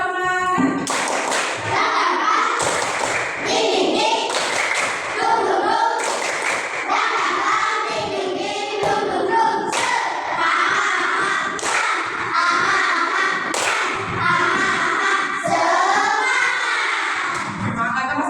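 Rhythmic 'tepuk semangat' clapping chant in an elementary classroom, with children clapping in quick patterned bursts and calling out together, loud and close, sustained throughout.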